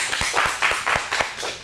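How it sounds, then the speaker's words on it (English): A small group at a teen acting studio showcase gives a brief round of applause, with close, distinct claps in an uneven rhythm lasting under two seconds. "First off, all of you give yourselves a round of applause."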